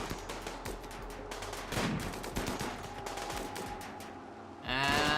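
Rapid gunfire from colonists fighting a crashed ship part in Rimworld, a dense stream of sharp shots crackling continuously over a low hum, with a louder burst near the end.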